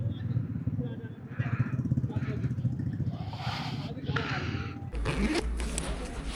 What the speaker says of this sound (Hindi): बाइक जा रही है पहले गियर पे, दूसरे गियर पे